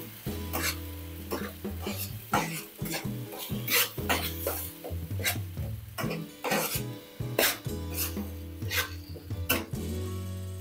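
Two large blended tomatoes sauté in oil in a pan for paneer masala, with close, repeated scraping stirs and soft sizzling over steady background music.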